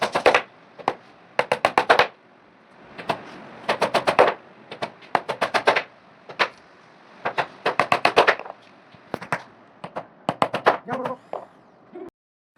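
Nail gun firing nails into a wooden frame built from 18mm plywood in a carpentry workshop, giving sharp, loud clustered bursts of rapid shots separated by short pauses, with no talking.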